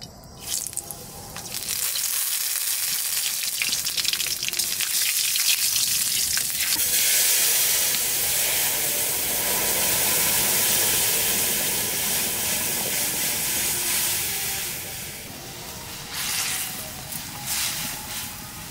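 Black cumin seeds and bay leaves sizzle in hot oil left from frying fish, giving a loud, continuous frying hiss close by that eases slightly toward the end, with no talking.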